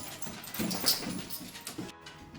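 A dog gives a few soft, brief whimpers and yips, faint and close, with quiet room sound between them.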